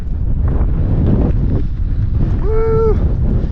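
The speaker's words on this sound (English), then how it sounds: "It's very windy now, but I've still got the peak to go." Strong wind buffets the microphone on the hilltop of Mynydd Parys copper quarry in North Wales, a loud steady roar with gusts, and a brief tonal honk-like call near the end.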